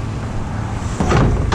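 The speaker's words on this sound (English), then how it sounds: "I think I heard a truck, though." A truck rolls past nearby on a roadway outside a dumpster area, a low rumbling engine that swells and grows louder in the final half second.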